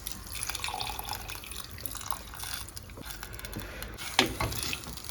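Tamarind liquid is poured into a bitter gourd curry in a pan, making close splashing and dribbling sounds with a louder gush near the end.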